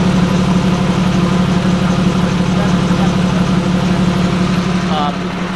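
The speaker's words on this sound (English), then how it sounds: "A little bit of chatter, and when I press the clutch in, it'll go away." A Porsche 911 997.1 engine idles close by with a steady low rumble and faint rattling chatter that goes away with the clutch pressed, while a voice speaks over it.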